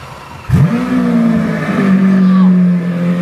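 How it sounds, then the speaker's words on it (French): A car engine fires up abruptly and is pushed straight into a hard launch, its revs climbing in a loud, sustained pull that holds strongly for about three seconds. "Je te fais un démarrage bien adhérent, frérot."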